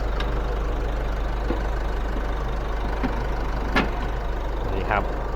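A 2022 Isuzu MU-X 1.9 DDI Blue Power diesel engine idles steadily with a low, even rumble, punctuated by a few brief clicks and knocks.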